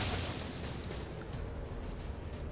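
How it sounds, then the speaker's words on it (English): Sonic boom ability in the video game XCOM 2 going off as a loud, dense rushing blast that fills the whole clip, with no clear separate hits and no talk. "Sonic boom!"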